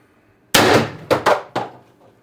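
X-68 air gun firing an 8.4 gram Smasher XL round, heard as a sharp, close bang followed quickly by a few shorter clanking bursts, with quiet before and after.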